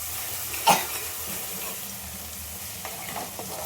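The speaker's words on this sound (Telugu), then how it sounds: "కలుపుతూ ఉండాలి." Chicken curry with turmeric and ginger-garlic paste frying in a pan under steady stirring: a continuous soft sizzle with one sharp scrape or knock near the start and a few lighter scrapes later, no voices.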